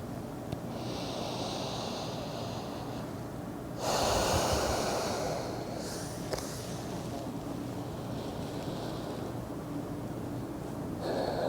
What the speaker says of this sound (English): in and out through the nose. Deeper rounds of breath than you normally would.